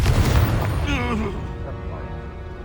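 In Hogwarts Legacy, a Confringo blasting spell erupts in a deep booming explosion with a rumbling burst, followed by a voice and fading debris sounds.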